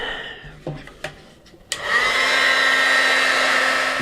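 After a few light clicks and taps, a heat tool switches on and blows steadily while heating embossing glaze on a craft project, a loud continuous whirring roar held close by.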